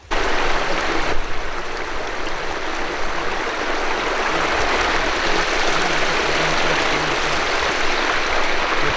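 Loud, continuous rush of water pouring down, broad and steady from start to finish, with no voices.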